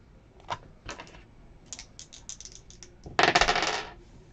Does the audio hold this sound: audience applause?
no